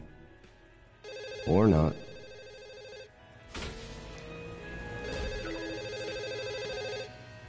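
A telephone ringing in the VR game The Assembly, repeated electronic ring tones in bursts with a warbling tone early on, moderately loud, while someone speaks briefly.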